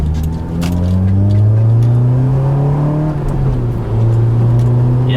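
A 2004 Honda S2000 AP2 engine revs steadily during a test drive, its loud, rising and falling drone heard from inside the car, with throttle lifts dipping the pitch before it climbs again.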